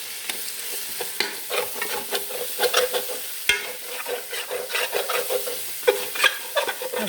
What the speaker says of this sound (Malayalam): മസാല പിടിച്ചതിനെയൊക്കെ അതുപോലെ ഇളക്കിയിട്ട് കൊടുക്കണം